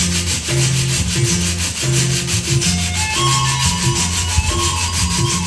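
Sandpaper scraped in a steady rhythmic back-and-forth to imitate a moving train, close and continuous, with repeating rubbing strokes over a sustained background and no talking.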